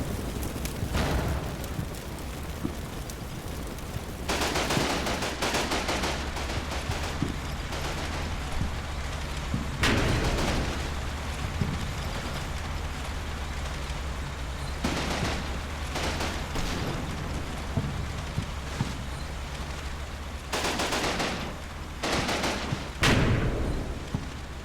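Gunfire and tank cannon fire in the World War II video game Combat Mission: Final Blitzkrieg, with distant rifle and machine-gun bursts and several heavy booms over a steady low battlefield rumble.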